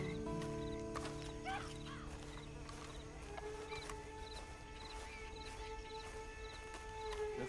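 Horse hooves clip-clop at an easy pace in the Red Dead Online video game, faint and intermittent under steady ambient tones and a few brief animal calls.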